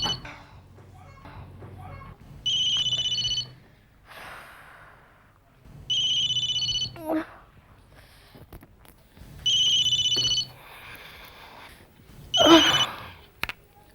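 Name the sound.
mobile phone ringtone ringing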